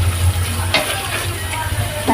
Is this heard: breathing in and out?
no